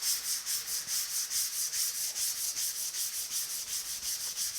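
Strokes of 120 grit sandpaper scrub back and forth across the metal hood of a 1950 Chevy truck, a close, even, rhythmic hiss repeating roughly three times a second without pause.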